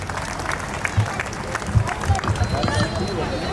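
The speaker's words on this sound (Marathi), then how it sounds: "जोरदार टाळ्या टाळ्या झाल्या पाहिजे" An audience claps at an Ambedkar Jayanti celebration in Nagpur, a moderate, scattered burst of applause mixed with crowd murmur, heard at some distance.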